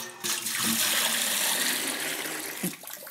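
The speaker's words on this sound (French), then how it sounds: "Je vais mettre un petit peu d'eau dans un seau." Tap water gushing steadily into a bucket, a loud, close, continuous splashing pour lasting a few seconds before it cuts off.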